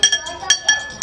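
Ice cubes clink against a drinking glass as a fruity homemade drink is stirred, giving about five bright, quick chinks in an uneven rhythm, close and fairly clear.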